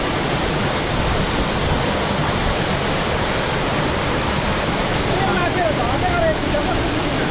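Loud, continuous rush of the waterfall at Sankhay Dhunga, Chamong, heard up close, with a faint voice briefly rising over the roar partway through.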